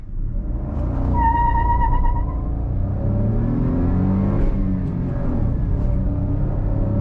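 A manual New Dzire VXI sprints from 0 to 100 on village lanes, its engine droning loud and close with a whining tone that climbs through the gears under steady road rumble. No voices are heard.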